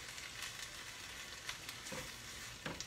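Two cups of diced tomatoes sauté in a pan for shrimp pomodoro, a quiet, steady sizzle with occasional crackles and soft stirring scrapes, and no voices.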